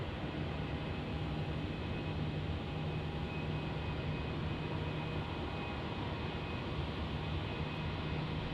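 Airplane taking off from runway 27 at Melbourne Airport, a continuous, steady broadband engine roar with faint tonal hum that stays even throughout, heard from a distance with no voices.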